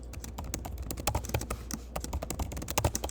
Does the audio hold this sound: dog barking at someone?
no